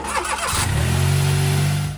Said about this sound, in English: the alternator is no longer seized up, and the engine starts much easier